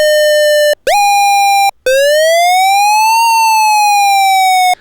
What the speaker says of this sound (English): We'll put envelope 3 to the pitch of oscillator 1. Now, of course, it'll make an obnoxious noise